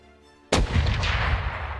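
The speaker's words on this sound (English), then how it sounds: "Fire cannon 1." A cannon in a Unity VR game fires one loud, sudden blast after a quiet moment, followed by a long booming rumble that holds strong to the end.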